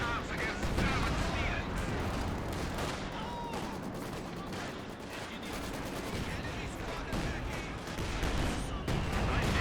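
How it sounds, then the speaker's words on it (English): A World War II battle rages in Company of Heroes, with continuous dense gunfire, artillery and explosions rattling underneath a commentator's voice. "Lots of explosives just being hurled over to the Axis"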